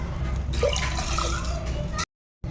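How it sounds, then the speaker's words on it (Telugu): Water pours into a pan of simmering tuna fish curry, a close, gurgling splash that runs for about two seconds before cutting off abruptly. "ఇప్పుడు ఇందులో వాటర్ వేసుకుందాం"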